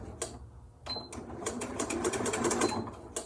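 A Janome Flower Stitcher sewing machine runs in short rapid bursts of stitching, its light mechanical clatter close and quiet, with brief pauses between runs.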